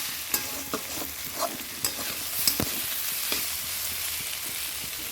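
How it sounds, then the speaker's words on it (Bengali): Turmeric-coated potatoes frying in a pan, a continuous close sizzle punctuated by sharp spatula scrapes and knocks as they are turned and stirred. "দেখো আলুটা ভাজা হয়ে গেছে মোটামুটি"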